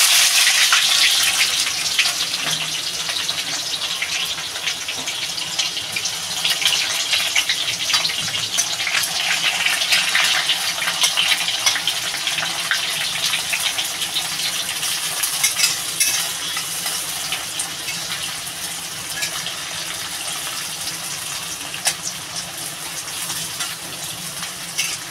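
Onions hit hot oil in a pan and fry with a loud, continuous hissing sizzle that slowly settles over nearly half a minute, with no voices.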